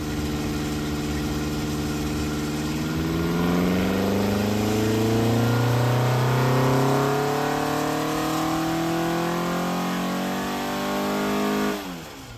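A Ford Crossflow engine revs steadily upward under load on a dyno, its tone climbing and holding at high speed, then cutting off abruptly at the end; no voices.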